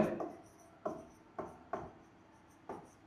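Pen writing on paper in a classroom lesson, close scratching strokes coming in short repeated bursts with brief pauses between, quiet and with no talking.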